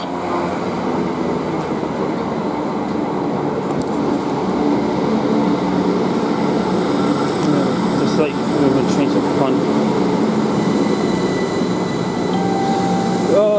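A GWR train at Slough station rumbles and hums steadily along the platform, with faint wheel squeals near the end and voices talking nearby.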